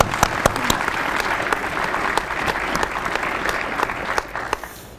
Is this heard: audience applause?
yes